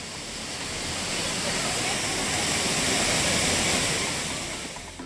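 Courtallam waterfalls pouring steadily, a dense, loud, unbroken roar of falling water that swells slightly and then eases toward the end, with no clear voices.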